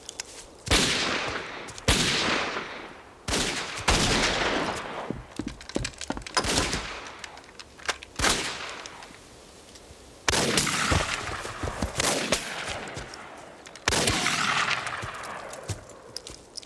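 Gunfire in a western drama shootout: repeated sharp shots and volleys crack out in bursts with brief pauses, loud and close, with some echoing tails and no talk.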